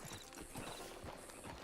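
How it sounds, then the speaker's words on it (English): Horse hooves clip-clop in a steady rhythm in Red Dead Redemption 2 online gameplay, moderately close and continuous, with an occasional faint whinny and no talk. "Just get on the horse when you're good and ready"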